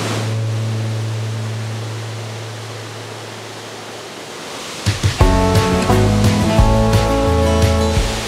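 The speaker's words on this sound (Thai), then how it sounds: "ตอนนี้ก็เดินมาถึงน้ำตกอีกอันหนึ่งแล้วนะครับ" A waterfall at Huai Yang National Park in Prachuap Khiri Khan gives a steady, loud rushing roar, and partway through sustained tonal, music-like sounds join over it.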